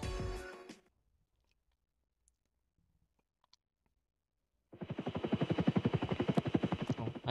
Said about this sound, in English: Oh, a chopper.